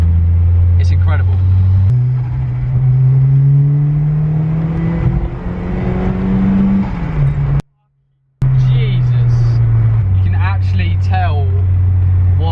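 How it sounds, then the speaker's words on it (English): A Series One Ford Escort RS Turbo rated at 230 bhp pulls hard along back roads, its engine droning and climbing in pitch through the gears, heard from inside the car under steady talk from the driver. "Driving this car down all these back roads feels like a bit of a workout."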